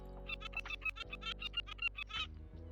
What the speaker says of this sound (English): The bird is screaming.